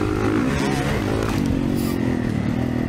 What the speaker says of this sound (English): This KTM two-stroke in front of me is just throwing dirt.